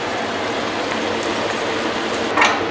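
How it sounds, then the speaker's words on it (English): Shallots sizzle in hot oil in a pot, a steady loud crackling fry that runs throughout with a slight surge near the end, no voices. "I'm putting the shallots in the hot oil"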